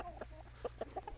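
A hen clucks several times in short, soft bursts over a quiet background hum.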